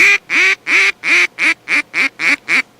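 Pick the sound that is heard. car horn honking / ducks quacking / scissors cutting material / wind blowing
ducks quacking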